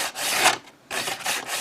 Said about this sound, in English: I'm using 1200 grit, 120 grit sanding sponge here to sand it down a bit.